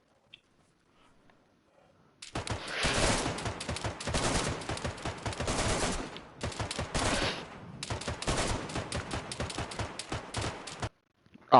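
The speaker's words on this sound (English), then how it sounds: "they were just shooting randomly through the bushes" Rapid automatic gunfire in the video game DayZ, long dense bursts of loud close shots with a short gap midway, then abrupt silence.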